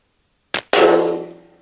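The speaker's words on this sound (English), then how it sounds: "absolutely no problem to hit that ammo tin dead center square" A slingshot shot strikes a metal ammo tin downrange: one sharp impact followed by a louder, ringing metallic clang that decays over about a second, with no talk.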